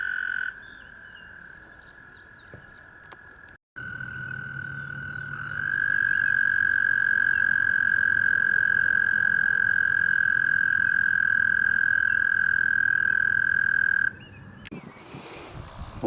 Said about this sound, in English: Little American toad.